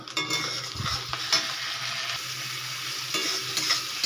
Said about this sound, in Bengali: এবারে দিয়ে দেব আদা, রসুন, কাঁচা লঙ্কা আর টমেটো পেস্ট দিয়ে আবারও একটু কষিয়ে নেব।